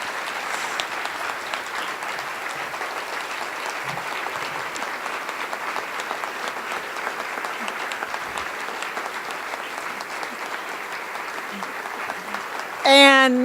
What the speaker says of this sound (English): Give her a hand.